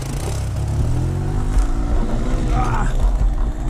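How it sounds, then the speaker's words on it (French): A Zongshen motorcycle engine held at full throttle while faltering and failing to pick up revs, a loud, steady, rough drone close to the microphone, with someone talking over it. "Je suis en deux, je mets gaz en grand."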